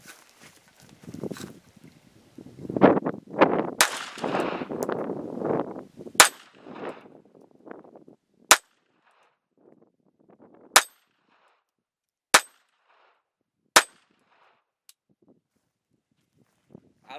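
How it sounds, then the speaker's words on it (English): Shots from a .25 ACP ARMI Tanfoglio pistol striking a steel plate rack, heard as sharp isolated cracks spaced a second or two apart after an opening stretch of busier, clattering noise. "It doesn't hit with a whole lot of force, as you'll see when we shoot the plate rack here."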